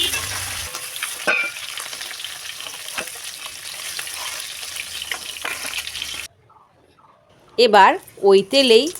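Whole cumin, cinnamon, green cardamom and dry red chillies frying in hot oil for a Bengali tempering, a steady crackling sizzle that cuts out abruptly, followed by someone speaking briefly over silence.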